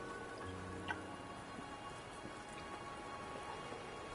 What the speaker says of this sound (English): the rain won't last much longer